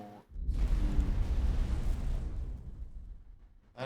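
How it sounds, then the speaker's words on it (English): A loud, deep explosion in the space game X4: Foundations bursts out and rumbles for several seconds before slowly fading, with no one speaking over it. "That explosion doesn't sound good."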